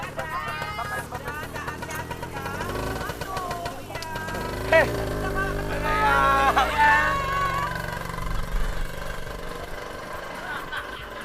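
A Bajaj auto-rickshaw engine chugs and idles underneath lively conversation, its running noise low and fairly steady through the busy talk.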